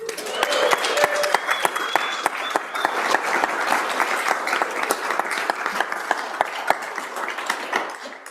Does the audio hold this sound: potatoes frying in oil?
no